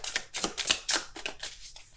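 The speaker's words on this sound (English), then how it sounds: "I'm going to keep shuffling." Tarot cards are shuffled by hand in a quick run of crisp, papery riffles and slaps, close and fairly loud, with no talking.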